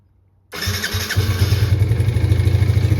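A 2006 Yamaha Raptor 80cc ATV engine cranks and fires up after a moment of quiet, then settles into a steady, close, buzzing idle.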